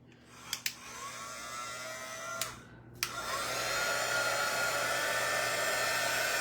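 A hair dryer blows steady air over the back of a glass tumbler in a craft project, starting with a few short bursts before running continuously at a moderate level.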